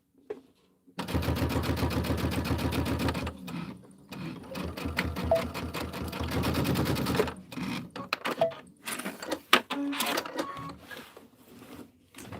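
A sewing machine stitches fabric with a close, loud, rapid mechanical chatter, first in a long steady run and then in shorter starts and stops mixed with handling noises.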